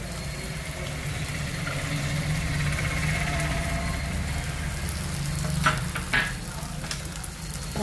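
A paste of sesame, coconut and melon seeds fries with spices in a pan for a prawn masala gravy, giving a steady loud close sizzle throughout with a couple of brief scraping stirs near the end.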